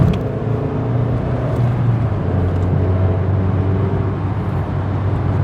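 A 1999 Ford Escort ZX2 with a Zetec engine pulls through its gears on the road, its engine a loud, continuous interior drone that holds steady, its pitch shifting slightly as it moves between gears.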